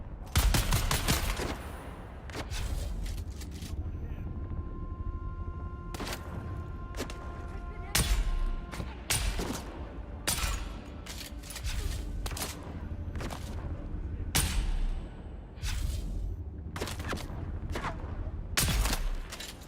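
Gunfire in the video game Dune: Awakening crackles in dense, repeated bursts and single sharp shots over a steady low rumble, loud and continuous throughout a long firefight.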